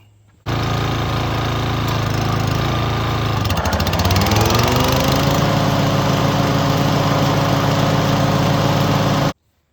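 A Toro Timemaster lawn mower engine test-fired after a spindle bolt repair catches almost at once and runs loud and steady nearby, its pitch settling slightly partway through before it cuts off abruptly.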